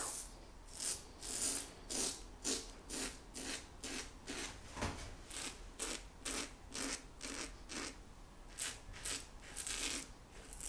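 A Rockwell 6C safety razor with a Treet Classic blade, over Arko soap lather, shaves in a steady run of short, rhythmic scraping strokes, close and crisp with no talking.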